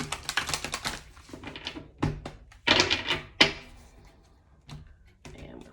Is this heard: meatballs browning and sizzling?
no